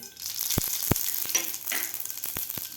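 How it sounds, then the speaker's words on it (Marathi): Mustard seeds sizzling in hot oil in a pan, a close hissing fry punctuated by several sharp pops and crackles scattered across the moment, with no voices. "तेल आपलं गरम झालेलं आहे यामध्ये घालायची आपल्याला मोहरी"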